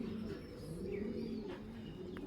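China Khaki pigeon, an old-breed female, giving soft low rolling coos close by at low volume, with faint chirps from other birds in the background.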